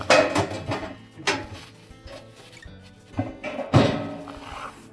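Plastic evaporator cover on a Whirlpool refrigerator being hooked over its mounting brackets and slid under the upper pan: a series of close, hollow thunks and clattery knocks in irregular bursts, with a louder impact near the end.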